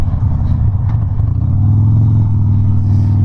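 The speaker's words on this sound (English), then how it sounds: "So let's see how she does on the highway. See how that 88 twin cam does." A Harley-Davidson Dyna Low Rider with an 88 twin cam engine cruising on a highway, its loud, steady low engine drone close up with wind rumble and no talk.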